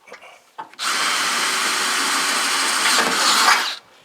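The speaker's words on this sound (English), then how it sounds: "Drill that out." Power drill boring out a hole in steel while fitting camper tie-downs on a 4-cylinder Tacoma: a steady, loud whining grind held for about three seconds, with short handling noises just before it starts.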